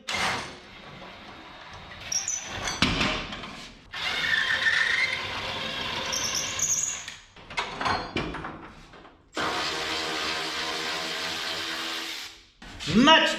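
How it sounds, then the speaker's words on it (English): Bolts being removed from the leaf spring shackles of a 1984 Chevy S-10 truck, heard as ratcheting wrench clicks and metallic scraping in uneven bursts separated by short pauses, close and moderately loud. "Let's remove these bolts all the way."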